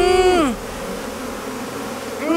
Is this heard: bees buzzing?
yes